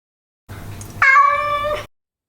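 A cat meows once, a clear, drawn-out, close meow of about a second, heard alone after a brief low rumble of background noise.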